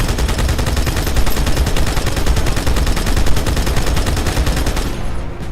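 Sustained rapid-fire bursts from a manned mounted turret in Halo 2, loud and dense, hammering continuously for several seconds before cutting off abruptly at the end.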